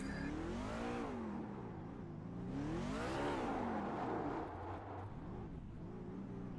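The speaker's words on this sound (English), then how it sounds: "That truck looks fantastic, doing some donuts, throwing up the smoke." A race truck at Charlotte Motor Speedway spins donuts, its engine revving loudly and continuously in rising and falling sweeps, close and dominant with no talk over it.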